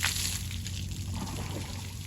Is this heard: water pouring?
yes